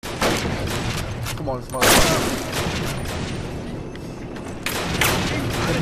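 Rapid machine gun fire and booming shots from the Call of Duty Classic video game during a bridge defense, dense and continuous, with a voice briefly speaking over the gunfire.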